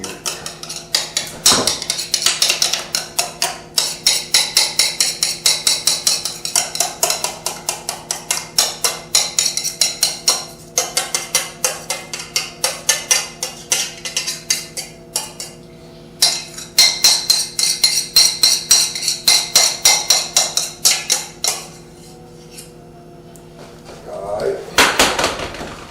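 Spoon scraping and clinking against a pan while transferring freshly boiled pastry cream, a steady rhythm of metallic taps and scrapes close by, with a voice speaking over parts of it.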